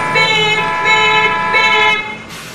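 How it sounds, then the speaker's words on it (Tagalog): A loud bus horn honks in three or four short, close blasts in quick succession, then cuts off. "saka bumusina ng bumusina"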